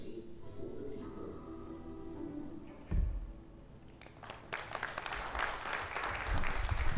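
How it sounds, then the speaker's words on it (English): Applause from an audience at a Nigerian public event, rising into a dense, sustained clatter of clapping after a brief swell partway through, filling the room without any talk. "A round of applause again."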